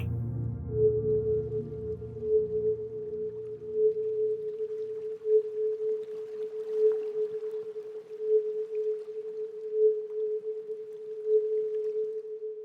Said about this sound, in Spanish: Frecuencia de 432 Hz.